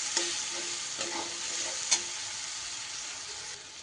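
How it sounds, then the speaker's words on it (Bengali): Tomato fried down in oil with turmeric and Kashmiri chilli powder sizzles steadily in a pan, with a few sharp spoon scrapes as it is stirred, close and alone. "টমেটো কিন্তু তেলের মধ্যে আমার বেশ ভাজা ভাজা হয়ে গেছে।"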